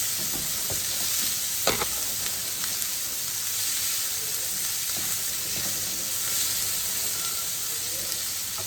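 Steady sizzling of vegetables with green peas and sweet corn frying in a pan, with occasional scraping and clinking as it is stirred, close and continuous.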